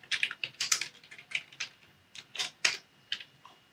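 Keys on a computer keyboard are struck in a quick, uneven run of crisp clicks while an email address is entered into an Excel sheet. The typing is close, fairly quiet and has no talk over it.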